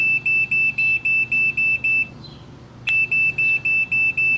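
Rapid electronic alarm beeps in steady pulses, a brief pause, then the same high-pitched beeping resumes, loud and close.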